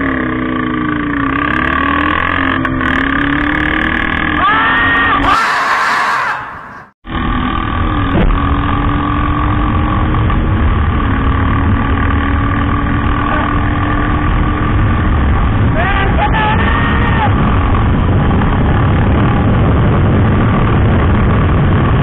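Two motorcycles, a KTM and a Bullet 350, rev and idle at the start of a drag race. The engines give a loud, continuous drone with rising and falling pitch, broken by a brief burst of wind noise.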